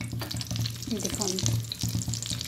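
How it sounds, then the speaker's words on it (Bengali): Eggplant slices frying in oil, a close, steady crackling sizzle with spattering pops and brief stirring sounds. "এইভাবে আমি একটা একটা করে সব বেগুন চাক ভেজে নেব।"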